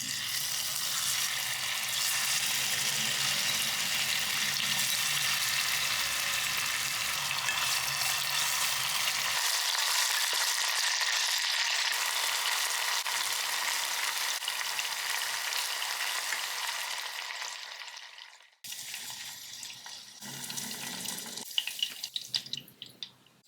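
Loud, steady sizzling of marinated pork frying in hot oil in a small pot, continuing for a long stretch before breaking into softer, uneven crackles.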